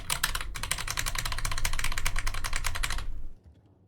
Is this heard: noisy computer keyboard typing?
yes